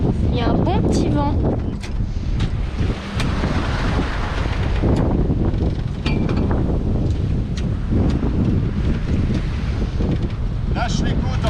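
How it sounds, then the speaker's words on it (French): Strong wind roars over the microphone aboard a sailboat at sea, with waves and water rushing against the hull and rigging noise underneath, continuous and loud, while a voice speaks at times over it. "Il y a un bon petit vent."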